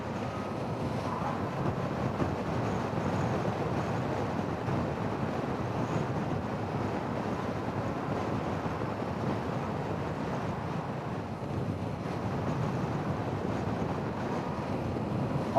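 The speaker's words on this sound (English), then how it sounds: "Whoa, that's windy," Steady, heavy wind roar buffeting the microphone while riding a Honda Goldwing GL1000 motorcycle, a dense continuous rush with no break and no speech over it.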